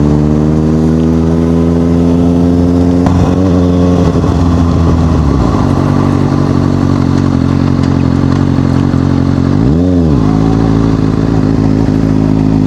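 A Kawasaki ZX6R motorcycle idles loudly up close with a rich, throbbing hum, broken by three sharp throttle blips that rise and fall quickly.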